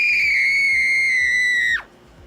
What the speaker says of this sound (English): It's my girl scream.